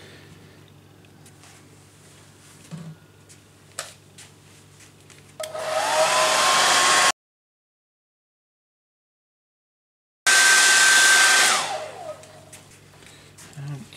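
A hair dryer blows over a watercolour painting of stormy skies, running loudly and close for a few seconds, cutting to silence, then starting again and winding down, with quiet studio sounds before it.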